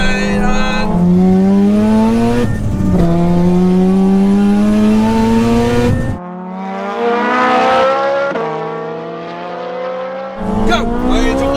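Super car and tuner car racing side by side, engines revving hard through rising gear pulls with sharp shift breaks, loud and close, with people talking over the roar.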